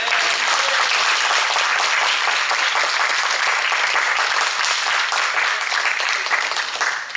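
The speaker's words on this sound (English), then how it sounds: "I feel like she deserves a round of applause for all that." An audience at a school board meeting applauds, giving a loud, sustained round of clapping for about seven seconds without a break.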